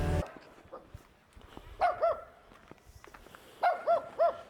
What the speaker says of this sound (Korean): 귀여운 강아지들 뭐냐 이거?